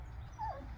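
A liver-patched Dalmatian puppy gives a short, high whimper midway through, close and fairly soft over quiet room background.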